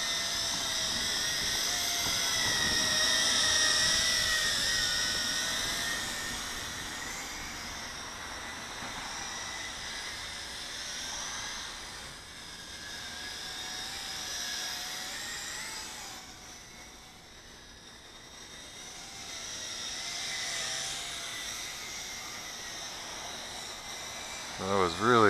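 A YiZhan X6 Tarantula quadcopter drone buzzes steadily in flight, its whine swelling and fading as it moves nearer and farther, with a voice talking over it.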